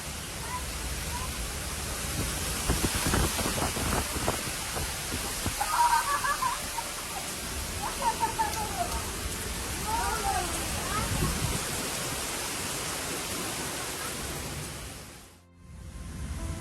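Severe thunderstorm winds gusting over 150 kilometres per hour drive rain through a city, making a loud, steady, broadband roar with brief bursts of voices and scattered squeaks, then cutting off abruptly near the end.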